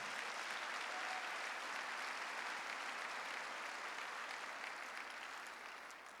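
Church congregation at a Sunday service clapping together in a sustained, even wash of applause that holds steady and then slowly fades toward the end.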